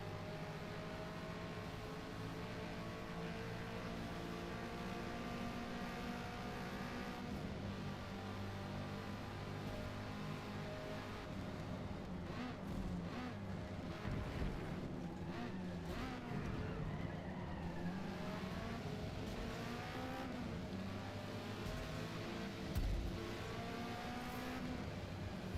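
Subaru and Camaro race cars in Forza Motorsport drone steadily at a distance, their engines revving and rising and falling in a continuous low rumble with occasional skids, with no talk.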